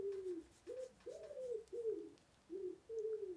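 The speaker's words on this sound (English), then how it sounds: "It's a pigeon." A pigeon coos close by, giving about six soft, rounded, slightly falling calls in quick succession with short gaps between them, alone and quiet.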